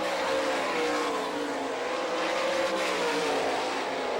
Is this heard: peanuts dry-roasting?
no